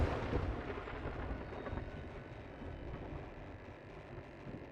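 A desert storm in a video game, with deep, continuous rumbling thunder that swells loudly at the start and rolls on steadily, fading slightly, with no voices.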